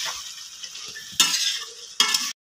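Jackfruit and prawns cook down in oil in a pan, a soft crackle broken by two louder bursts of sizzling stirs near the end with no talking.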